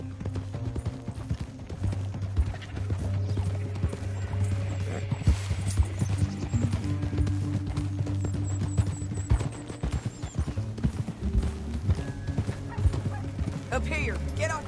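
Horse hooves clip-clop at a steady trot in the Red Dead western video game, mixed with low rumbling game ambience and a faint background drone throughout.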